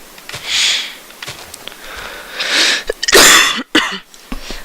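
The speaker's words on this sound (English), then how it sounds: "I do apologize if I coughed in the mic that time." Coughing into a microphone during a Minecraft waterfall tutorial: several short, harsh bursts close to the mic, one large burst near the end followed by smaller sputters, heard alone with no talk.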